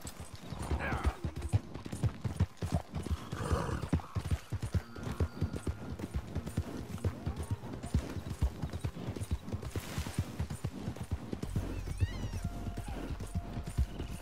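A horse in the video game Red Dead Redemption 2 gallops with rapid, steady clip-clop hoofbeats close and continuous, a brief whinny early on, and faint game ambience underneath.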